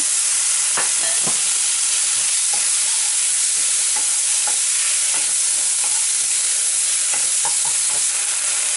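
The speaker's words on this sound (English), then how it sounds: "fry it about a minute Add chopped tomato" Spices, ginger and chopped tomato fry in a pan for an onion- and garlic-free potato curry, giving a loud, constant sizzling hiss broken by scattered stirring taps and scrapes.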